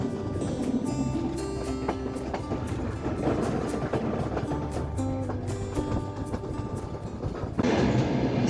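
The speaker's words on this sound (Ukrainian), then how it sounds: "Нарешті ми в потязі." A passenger train rolls along with a rhythmic clickety-clack of wheels over rail joints, heard from inside a sleeper carriage as a steady rumbling drone with repeated metallic clicks and a louder rush at the end.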